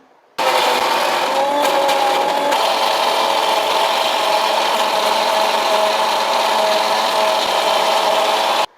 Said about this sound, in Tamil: இப்போ நல்லா அரைச்சி எடுத்துக்கலாம்